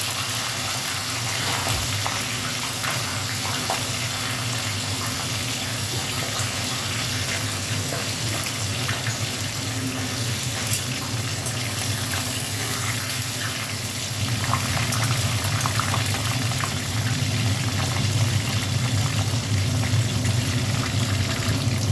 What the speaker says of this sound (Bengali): মাছের মাথা দিয়ে দিচ্ছি। দেখো, তেলটাও দিয়ে দিলাম।